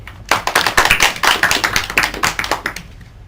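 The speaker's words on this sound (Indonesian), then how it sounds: "Beri tepuk tangan dulu dong." A classroom of students clapping their hands together during a micro-teaching session, a dense burst of applause that starts abruptly and continues steadily for a few seconds, close and loud.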